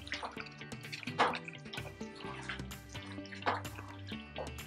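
Mafé peanut stew simmering in a pot, thick bubbling with irregular pops and blips, close and soft, steady throughout.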